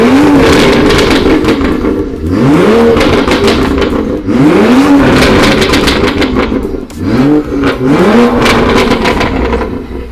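A modified car engine at a tuning workshop in Pekanbaru revs hard on acceleration, loud and close, with repeated rising sweeps, gear-like drops and crackling bursts across ten seconds, no speech over it.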